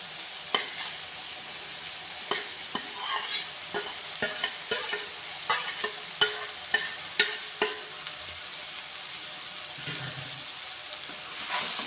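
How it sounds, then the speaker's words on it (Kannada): Spatula stirring already-fried cluster beans with spices in a hot pan, a steady sizzle under repeated scraping strokes in an uneven rhythm, close and fairly loud. "ಚೆನ್ನಾಗಿ ಮಿಕ್ಸ್ ಮಾಡ್ಕೊತೀನಿ"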